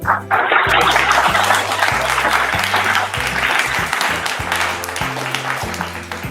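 An indoor audience at a jewellery store in Garia applauds together, a dense steady clapping that stays loud and sustained throughout with a faint murmur of voices underneath.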